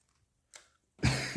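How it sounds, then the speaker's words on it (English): A person with a bad two-week cough gives a brief throaty cough close to the microphone, a short burst followed by a longer rough one, with no speech. "Having such a bad cough this whole last 2 weeks"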